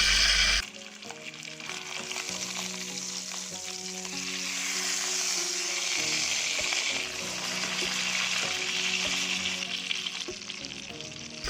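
Tuna frying in lemon garlic butter in a pan, a steady, fairly loud sizzle with bubbling and light crackle carrying on throughout after an opening thump, no voices.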